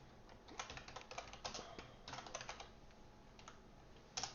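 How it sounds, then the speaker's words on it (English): Fast typing on a computer keyboard, with dense bursts of quick key clicks separated by short pauses, fairly close and moderately loud, with no talking over it. "I think I'm just typing too fast for my brain."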